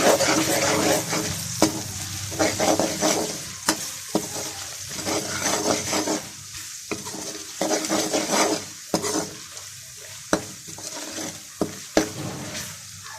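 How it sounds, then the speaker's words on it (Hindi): Spice masala for matar pulao being stirred and fried in a pan, with steady sizzling broken by repeated sharp scraping strokes of a spoon against the pan, close and fairly loud, no talking. "इसको अच्छे तरीके से मिक्स कर लें और मसाला भून"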